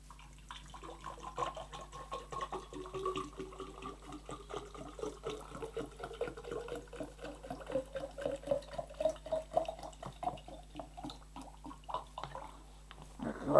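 Water pours into a container, a steady splashing stream whose pitch rises as the vessel fills, while a vase is prepared for cut tulips. Quiet and close, no talking.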